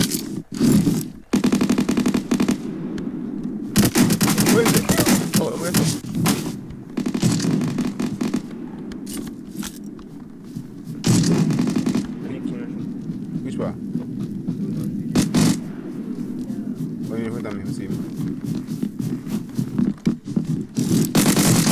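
Tommy gun fire in a multiplayer shooter video game, bursts of automatic shots breaking out repeatedly amid game noise while players talk over it.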